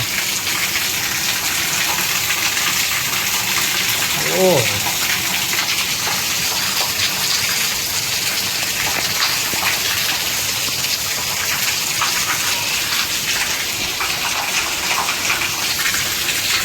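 Heavy rain pours down steadily in Junagadh during a storm, with rushing, gushing water filling the whole stretch in a dense, unbroken roar.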